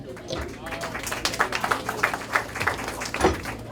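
Audience applauding a captain at a book launch: scattered, uneven clapping from a modest crowd mixed with murmuring voices and chatter throughout.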